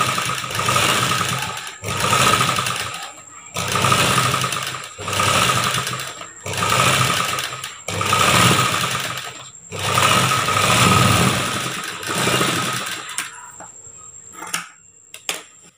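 A sewing machine stitches the curved seams of a churidar top in repeated bursts of steady whirring, each run a second or two long and separated by short pauses, close and loud, ending with a few faint clicks and handling sounds.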